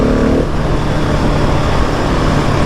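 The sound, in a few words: Husqvarna 701 SM motorcycle accelerating in third gear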